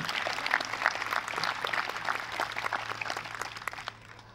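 An audience at a panel discussion at a technology and entrepreneurship festival applauds with steady, moderate clapping that fades near the end.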